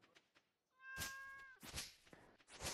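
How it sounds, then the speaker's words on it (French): Cat meowing in the video game Stardew Valley, a clear tonal meow followed by further short cat cries among soft game effects, fairly quiet overall. "Ah, il est là-bas le chat."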